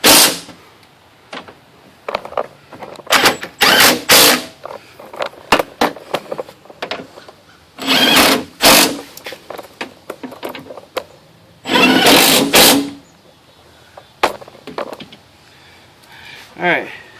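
Fasteners on a 1999-2005 Pontiac Grand Am window regulator being tightened with a power tool. Loud, close bursts of whirring ratchet come in short and longer runs, separated by pauses.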